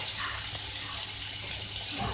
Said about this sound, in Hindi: और इसके साथ जो है हम ऐड करेंगे पानी इसको गलाने के लिए